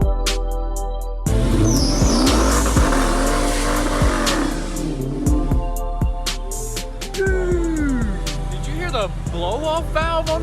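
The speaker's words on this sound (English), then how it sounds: "Dude, this is the best burnout I've seen so far." A supercharged cop car does a burnout, its engine revving hard in loud, rising bursts as the tires spin, with a blow-off valve hiss. People talk and shout over it, and birds chirp faintly in the background.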